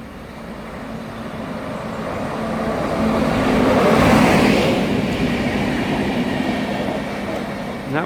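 A railway MPV travelling from Tonbridge to Kings Norton approaches and passes at Reading West, its engine roar and wheel rumble swelling to a loud peak midway, then easing as it moves off; no speech.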